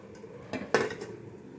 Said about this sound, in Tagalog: takpan muna natin siya guys